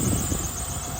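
A 2001–2002 Acura MDX engine idling under the open hood while its serpentine and power steering belts squeal, heard as a steady, loud, broadband drone.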